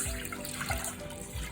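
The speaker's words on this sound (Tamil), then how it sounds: "இப்போ இதில் தண்ணியை ஆட் பண்ணுது." Water runs from a tap and splashes into a bowl of kozhukattai rice flour in a home kitchen, a steady close stream with no talk.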